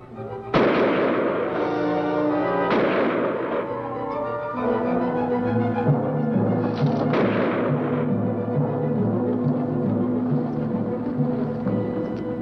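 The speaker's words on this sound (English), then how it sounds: "Fire over its head!" Gunshots fired over an animal's head to drive it off: a few loud, sharp booming reports close by, each trailing into rumble, followed by a long sustained tonal drone.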